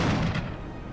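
A burst of gunfire in the horror game Call of Cthulhu: Dark Corners of the Earth: a single loud, booming shot with a dense low rumble that fades across the second, heard alone.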